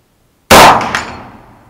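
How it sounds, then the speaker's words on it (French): A rifle bullet strikes a steel gong in a single sharp, loud metallic clang that rings on and decays over about a second, with no other sound around it. "On entend bien le gong."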